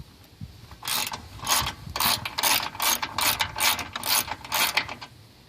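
A ratchet wrench turns a 10 mm bolt during alternator work on a Toyota RAV4, clicking in a brisk, close series of short rasping bursts with brief gaps between strokes.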